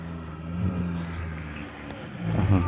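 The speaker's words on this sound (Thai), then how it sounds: "เสียงรถขึ้นเนิน" A vehicle engine labors and revs while climbing a hill on a mountain-ridge shortcut road just past a laterite dirt stretch in Chumphon–Ranong; steady close engine drone that swells louder near the end, with no talking.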